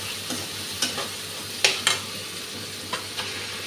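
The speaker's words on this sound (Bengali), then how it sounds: "মশলাটা ভাজা হয়ে গেছে" Masala spices fry in a pan after onions and green chillies, giving a steady sizzle with sharp clinks of a spoon scraping and stirring the pan several times.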